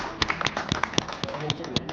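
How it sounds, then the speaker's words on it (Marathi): An audience at a felicitation event claps in uneven, sparse bursts, each clap sharp and fairly close, spread irregularly across the stretch. "टाळ्या वाजवा टाळ्या वाजवा"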